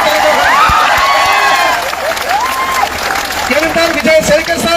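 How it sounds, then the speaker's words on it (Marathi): A crowd applauding at an outdoor student protest rally, with dense clapping that continues steadily while a voice speaks loudly over it through amplification. "सतीश शिंदे सर यांच्यासाठी जोरदार टाळ्या वाजवा"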